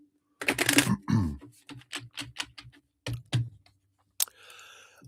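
Tarot cards are shuffled by hand during a live reading: a long riffling burst, then a run of quick, crisp card taps and flicks, close and clear with no speech.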